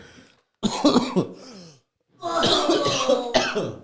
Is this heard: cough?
yes